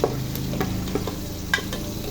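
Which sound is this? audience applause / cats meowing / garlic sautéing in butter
garlic sautéing in butter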